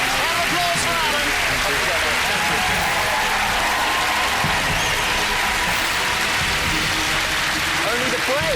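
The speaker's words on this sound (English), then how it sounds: "Round of applause for Alan." Studio audience at the TV game show The Cube applauding a contestant, loud dense clapping and cheering that fills the whole stretch, with voices mixed into the crowd noise.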